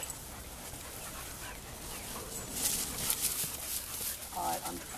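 Dog panting and whimpering close by amid other dogs running off leash outdoors, with soft jingling and rustle, while someone talks over it.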